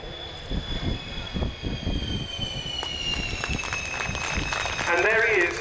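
A Dassault Rafale C fighter jet at an air display descends on a steep landing approach with its wheels down. Its distant, rising jet whine carries under a commentator's voice and crowd noise.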